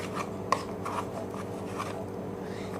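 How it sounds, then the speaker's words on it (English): Homemade cotton candy slime, made with oil to be non-sticky, is squished and worked by hand, giving soft, quiet sticky rubbing and a few faint clicks and pops close to the microphone. "So this is my slime. I'm gonna mix it."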